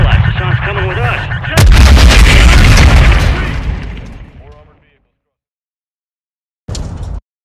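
An incoming missile strike lands in Call of Duty: Modern Warfare II: a loud, close blast roars and rumbles for a few seconds, follows earlier battle noise under shouted voices, and fades to silence before a short final burst.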